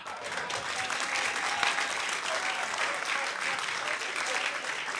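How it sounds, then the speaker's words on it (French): Audience applause at the Africa Stand Up Festival comedy show, a sustained, even burst of many hands clapping that holds steady for the whole stretch, with faint crowd murmur mixed in. "Applaudissez pour vous-même, gardez la même énergie."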